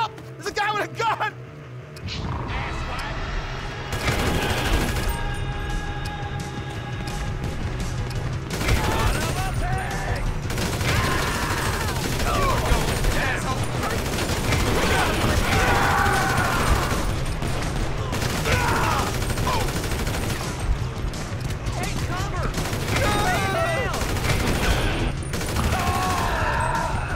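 Sustained gunfire from guns in Grand Theft Auto V fills the scene with dense, rapid bursts and booms, loud and continuous, mixed with in-game voices and vehicle noise.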